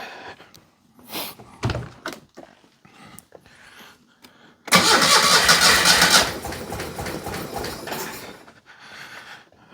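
A Citroen 2CV engine with choke and throttle cables not yet hooked up is cranked with a few clunks and knocks, then catches into a loud close rough roar that settles to a steadier idle.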